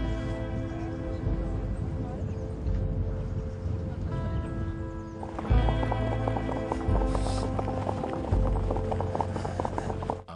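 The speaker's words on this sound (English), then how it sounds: "is testing the horse at the shore now" An Icelandic horse moves along the shore, its hooves giving a steady clip-clop rhythm at close range, with people talking and a background tone throughout.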